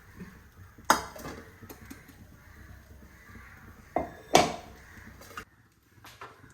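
Ground bread crumbs are moved into a bowl in a home kitchen: a few sharp clinks and knocks of the bowl and utensil stand out against a quiet background, with no talking.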